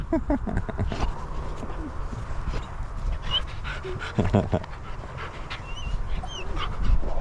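A freshly trimmed dog with a summer cut pants steadily close by at a home, the breathy rhythm continuing under background chatter and household noise.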